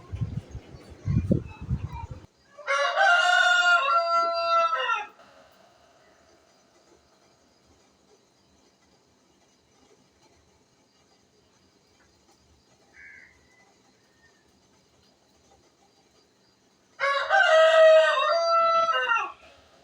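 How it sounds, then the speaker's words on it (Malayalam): A rooster crows twice in the morning, heard from a kitchen, each call long and loud with a rising, held tone, separated by a stretch of near silence; brief rustling comes before. "കോഴിയുടെ സൗണ്ട് കേട്ടിട്ട് ആരും ഒന്നും പറയണ്ട"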